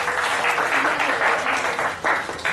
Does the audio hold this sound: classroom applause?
yes